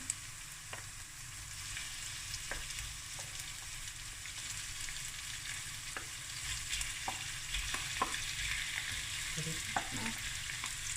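Sausage sizzling in a frying pan for a sausage and cabbage bredie, a steady close hiss with occasional scraping clicks from stirring and no talking.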